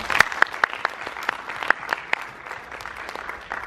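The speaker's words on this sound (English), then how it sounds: "Can I have another round of applause, please?" An audience applauds after a short film at a Kent Enlightens Nepal event, a steady stretch of clapping with several sharp, close individual claps standing out, no talking over it.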